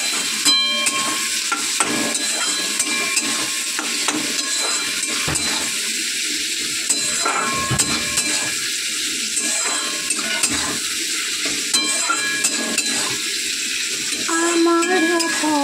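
Chopped tomatoes with salt fry in a pan as a spoon stirs them, giving a steady broadband sizzle with a scraping stir repeating every second or so. A song plays faintly underneath.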